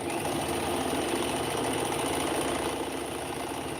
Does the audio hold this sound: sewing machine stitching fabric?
yes